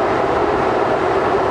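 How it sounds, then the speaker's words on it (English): A passenger train rides steadily along the rails between stations, a constant loud rumbling roar heard from inside the carriage with no talking. "We're on a train right now again."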